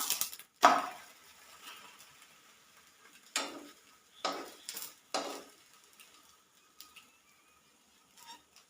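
A fried tea-time snack being flipped in a frying pan: scattered metallic scrapes and clinks of a spatula against the pan, a few sharp knocks spaced apart over a faint background sizzle.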